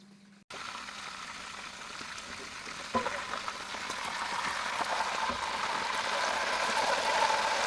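Chicken deep-frying thattukada style in hot oil, Kerala style: a steady broad sizzle starts abruptly after a brief quiet moment, jumps up around three seconds and keeps building slightly, continuous and close with no talking.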